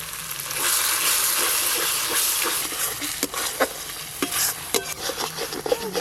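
Poppy seed and cashew paste with spices and a little sugar is stir-fried in oil, a loud hissing sizzle giving way to sharp scraping spoon strokes against the pan.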